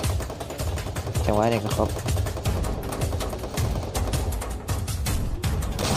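Gunfire in the video game Free Fire during a 4v4 match, rapid bursts of shots firing throughout under an excited commentator talking over them.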